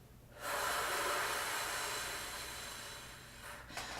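One long, steady breath during a flute-playing breathing exercise, heard close and soft as a sustained airy rush lasting several seconds before tailing off, with no talking.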